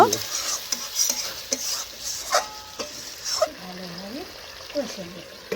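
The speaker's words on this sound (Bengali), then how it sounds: "এখন আমি পরিমাণ মতন কিছুটা জল দিয়ে নাড়াচাড়া করে আমি ঢাকা দিয়ে দেব" Mutton being stirred in a pan after water is poured in, with scraping strokes and soft sizzling bubbling close by, a voice talking over parts of it.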